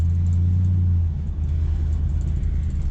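A 1966 Oldsmobile Toronado pulling away, its low engine rumble steady and close, with a strong low hum that drops slightly after the first second as the car gets moving.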